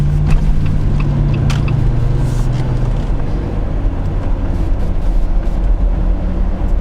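A Jeep Wrangler JL rolls down a road with a steady low engine and road rumble from inside the cab, continuous throughout with no talking.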